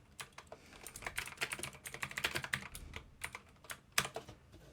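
Fingers type rapidly on a computer keyboard in dense, uneven bursts of close key clicks with a short pause before a final flurry, and no talking.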